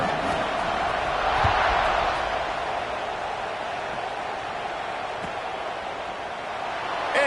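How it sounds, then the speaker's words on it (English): Stadium crowd in College Football 25 during an online Oklahoma versus Florida State game, a steady broadband roar and buzz after a touchdown and extra point, loud and continuous with a couple of brief thumps. "this crowd is buzzing after that last score"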